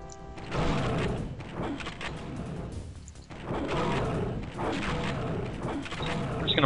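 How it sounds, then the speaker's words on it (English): Mortar launcher blasts in the DOS shooter Dark Forces, heavy booming thuds and crashing explosions in quick succession with a dip between bursts, loud and close. "It's called a mortar launcher."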